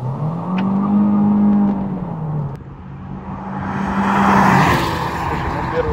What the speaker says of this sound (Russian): пару раз замерим 0-100 сначала с лаунч-контроля